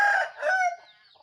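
A single close rooster crow, loud and bright, rising then trailing off over about a second, with no talking.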